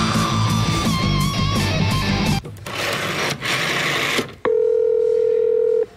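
A telephone keypad dials to reach voicemail: a quick series of beeping tones, then a steady, loud electronic tone near the end.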